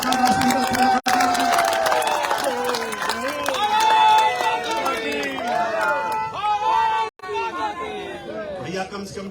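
Large crowd at a political public meeting in Jaipur cheering and shouting loudly, with many overlapping voices, whistles and scattered clapping building into a sustained roar.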